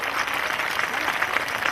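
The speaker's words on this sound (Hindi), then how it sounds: "जबरदस्त तालियों की गड़गड़ाहट और बौछार से उनका स्वागत करते हैं" Applause welcomes the saints at a large bhajan evening, a steady wash of many hands clapping throughout, loud and continuous with no clear pauses.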